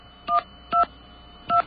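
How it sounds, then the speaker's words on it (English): Three telephone keypad tones sound in a quick sequence, each a clean dual-pitch beep of about a tenth of a second, separated by short gaps over faint background hiss. "What I'm going to try to do now is just dial 212-209-2900"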